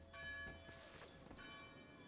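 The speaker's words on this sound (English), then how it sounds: "I wonder who's ringing the bell right now." A church bell rings in the video game Assassin's Creed 3, a sustained metallic toll with a lingering hum, faint and alone against a low background.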